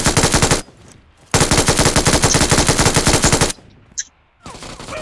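Automatic gunfire in PUBG Mobile, an ultimate arena match: two long, loud, rapid bursts of machine-gun fire separated by brief gaps, followed by quieter moments with a short sharp sound and more game noise.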